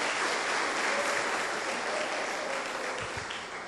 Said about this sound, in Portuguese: Um aplauso para Jesus, irmãos.